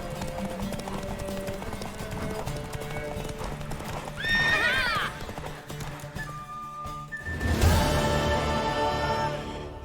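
A mare gallops in a race in the video game Witcher 3, with rapid, steady hoofbeats running throughout, a sharp whinny near the middle and a louder neigh toward the end, over a game soundscape with a background voice.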